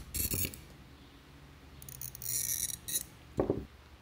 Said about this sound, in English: Listen to the difference between scoring the rough versus the smooth side.